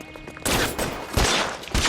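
Gunfire in the L.A. Noire video game: several loud, close bursts of shots breaking in after a quiet moment, separated by short gaps, with no talk.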